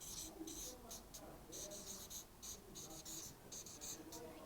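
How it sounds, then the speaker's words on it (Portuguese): Chalk or a marker writes words on a classroom board in short, bursty strokes with brief pauses between them. The strokes are faint and close, with soft background noise. "Vou escrever queijo. E vou escrever também querida."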